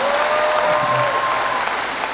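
Audience applause at a Chin cultural festival in Singapore, a steady wash of clapping that holds evenly throughout at moderate loudness, with no voices on top.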